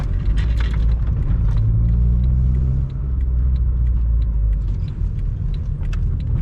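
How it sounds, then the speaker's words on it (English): A Peugeot 106 Quiksilver drives along on the road, its engine rumbling low and steady with a dense, close roar of road and cabin noise throughout. "let's go for one last drive"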